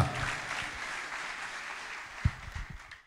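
Faint, steady applause with ululation from a church congregation, clapping continuing throughout before tapering off at the end.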